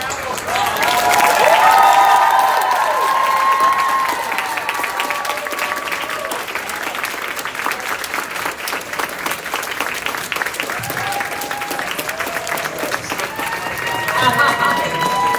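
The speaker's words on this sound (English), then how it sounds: "Let's give a round of applause." A live audience at a Pride speaker event with Dominique Jackson breaks into sustained applause mixed with cheers and whoops, loud and dense throughout, with occasional voices calling out over the clapping.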